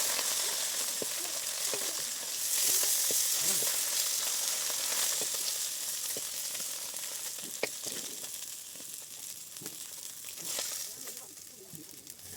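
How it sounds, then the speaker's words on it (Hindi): Fish fries in a hot kadhai in a village kitchen in Assam, giving a steady, loud sizzle with scattered crackles and pops and occasional stirring clicks, heard close with no one speaking. "हमारा कढ़ाई भी मतलब गर्म है, तो हम अभी फिश को फ्राई कर लेते हैं अच्छे से सबको"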